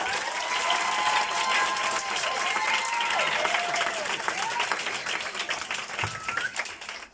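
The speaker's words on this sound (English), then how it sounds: "Let's give them a big round of applause." Students at a school assembly applaud their teachers with sustained loud clapping and crowd noise, while faint voices and cheers rise over the steady wash until it thins near the end.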